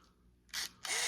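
A flash fires on an old Canon film camera: a faint click, then two bursts of bright, hissing whine as the flash charges and fires, close and fairly loud.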